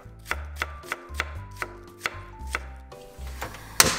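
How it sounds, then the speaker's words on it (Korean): A knife slices a quarter head of cabbage thinly on a cutting board, producing about a dozen crisp, evenly spaced chops up close, ending with a sharper final strike; no one speaks. "얇게 잘라주세요."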